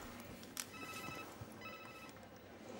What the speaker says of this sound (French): Oh, c'est mon portable.